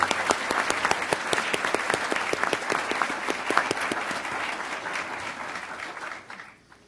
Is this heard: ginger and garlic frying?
no